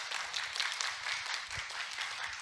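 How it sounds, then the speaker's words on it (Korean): A lecture audience applauds a biotechnology professor at the close of a science talk, soft and somewhat distant clapping holding steady at low volume for a couple of seconds. "재미있게 강연해주신 박선주 교수님께 박수 한 번 더 부탁드립니다"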